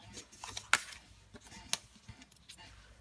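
Scissors snipping the end off a piece of card stock for a handmade drapery fold card, two sharp close cuts in a quiet room with faint handling noise between them.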